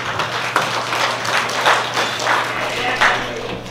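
A room full of people clapping steadily at a 50th wedding anniversary celebration, a continuous wash of applause with a low hum underneath.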